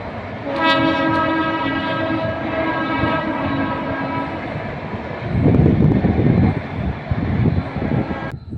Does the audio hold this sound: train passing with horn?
yes